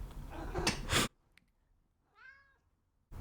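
A cat lets out a clear, drawn-out meow after a burst of rustling noise, close by in an otherwise quiet room.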